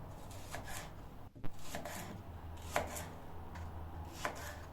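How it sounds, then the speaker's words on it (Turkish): A knife slices leeks diagonally on a cutting board, giving a few soft, spaced chopping strokes with gentle rubbing between them, close and quiet, with no talking. "pırasalarımı şöyle verev şekilde keserek"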